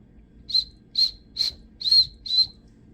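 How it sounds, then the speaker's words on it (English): Five short, high, pure whistle blasts come in an even rhythm, each lightly breath-blown and close by, over a quiet room background. "that's just me using my breathing breath to blow that whistle."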